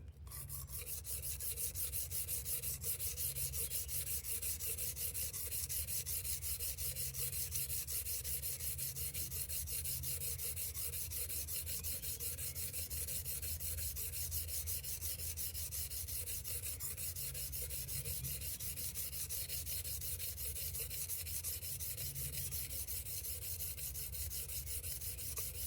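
A steel plane iron rubbed steadily back and forth on a coarse abrasive, a continuous gritty scraping that holds an even level throughout.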